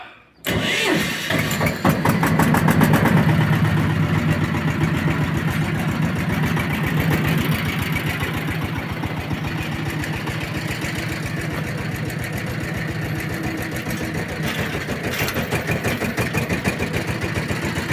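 A homemade tractor's engine cranks briefly, then catches and settles into a loud, steady idle with a rapid, even chugging that continues unchanged to the end.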